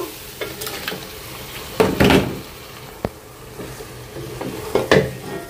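Washed chicken goes into a pan of frying masala and is stirred, giving bursts of sizzling and scraping with a sharp knock of the spoon against the pot, heard up close without talk.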